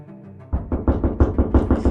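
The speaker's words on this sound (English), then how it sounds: "The next knocking comes not upon a reporter's backside, but upon the door of Charles Treadway." Repeated knocking on a door, about eight firm thuds in a quick steady rhythm, close and loud after a brief quieter lead-in.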